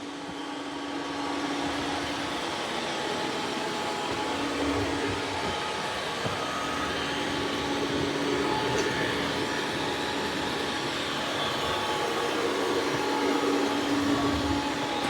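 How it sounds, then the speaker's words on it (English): A steady, droning motor hum with a whirring brush sound runs continuously and evenly throughout, close by, with no speech, from a roller-mop robot vacuum vacuuming and mopping a floor at the same time. "Now I've got it doing vacuuming and mopping at the same time."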